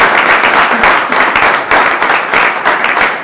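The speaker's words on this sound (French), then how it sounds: "on peut l'applaudir pour ça" A hall audience applauds a former mayor at a bronze medal ceremony for youth, sports and community service, loud close clapping in pulsing waves that lasts just over three seconds.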